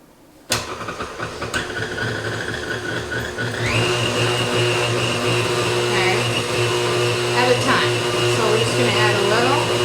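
An electric mixer whips cream with sugar to stiff peaks for tiramisu, starting with a sharp click into a steady motor whir that rises in pitch and holds, loud and close.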